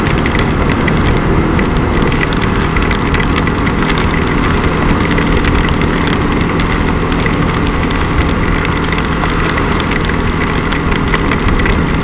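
Heavy downpour during a thunderstorm, a dense, steady roar of rain filling the whole stretch without pause, loud and close with no talking.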